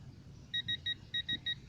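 A torque wrench beeps during a brake replacement on a Somerset E3 as it reaches 90 pounds, six short evenly spaced electronic beeps in two groups of three, faint over a low background hum.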